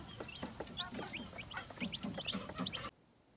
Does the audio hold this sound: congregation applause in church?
no